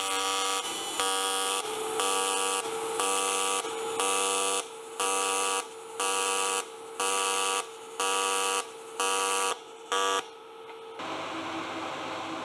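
AC TIG welding on 2mm aluminium with a Kemppi MasterTIG 235 running square-wave AC at 100 Hz, a loud, steady electrical buzz broken into about ten even on-off pulses, ending in a softer continuous hiss.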